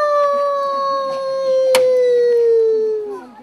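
A wolf howl in a street theatre show: one long, loud, sustained tone gliding slowly downward and fading at the end, with a brief sharp click partway through.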